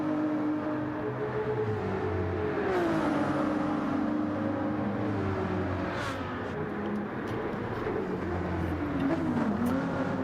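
Ferrari GT race cars in a racing video game, engines droning and revving steadily as they run close together, with pitch sweeps through gear changes and no talk over them.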